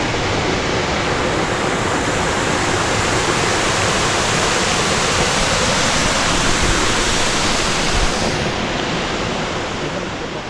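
Phe Phe Falls waterfall in Meghalaya, a constant broadband roar of rushing water, loud and close throughout with no speech.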